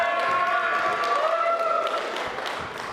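Wedding guests on a dockside celebration clap and cheer in a steady, dense wash of applause, with a few whistle-like tones riding over it before the crowd noise gradually fades.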